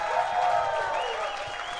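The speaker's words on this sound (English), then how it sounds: "How about a big round of applause?" Audience at a live clubhouse event applauding, a short steady patter of clapping with crowd murmur and a faint voice over the top, continuous and moderately distant.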